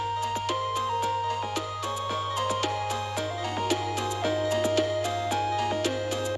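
A secret Minecraft music disc track plays steadily, with plucked synth notes over a constant low drone and crisp percussive ticks, no voices present.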